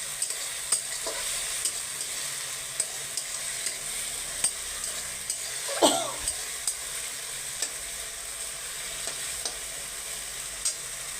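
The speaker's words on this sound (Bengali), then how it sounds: "একটু মশলাটা কষিয়ে নিই।" Masala spices sizzle and crackle in oil as they are stir-fried in a pan for a vegetable dal, a steady close hiss punctuated by sharp scraping strokes of the spoon, with one louder stir near the middle.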